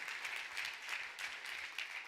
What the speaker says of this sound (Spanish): Le da ese aplauso fuerte